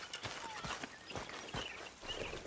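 Horse hooves clip-clop in a steady walking rhythm in a western video game near a beach, a moderately close, quiet series of soft thuds over faint background ambience.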